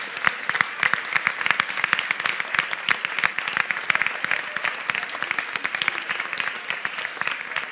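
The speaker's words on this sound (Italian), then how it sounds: "Ancora un applauso per loro," Dense, steady applause from a theatre audience after an amateur musical production, many hands clapping at once in a continuous even patter that stays moderately loud throughout with no talk.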